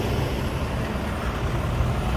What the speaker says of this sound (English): Sorry about the noise, we're right next to our main road